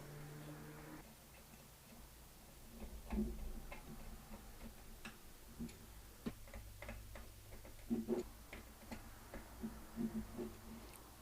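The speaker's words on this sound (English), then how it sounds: "you need to use the screws to hold the hard drive in place" Small screws are turned in to secure a hard drive inside an Amcrest NVR, giving sparse, quiet, irregular clicks and ticks close by.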